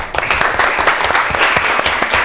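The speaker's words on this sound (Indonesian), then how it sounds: "tepuk tangan." A classroom of students bursts into brief, close applause, rapid individual claps in a short loud burst.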